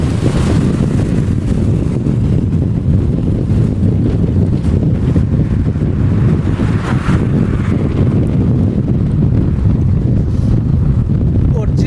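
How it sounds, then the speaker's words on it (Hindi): Strong wind blows steadily across open country around Bhadra in Rajasthan during a change in the weather, a constant loud roar buffeting the microphone for the whole stretch with no clear break. "बहुत तेज हवाएं चल रही है दोस्तों आज।"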